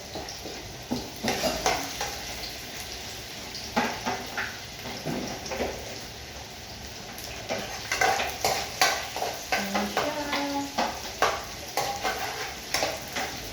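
Ginger and garlic sauté in a pan, with a steady sizzle broken by repeated scraping stirs and utensil clinks against the metal, close and fairly busy throughout, with no talking.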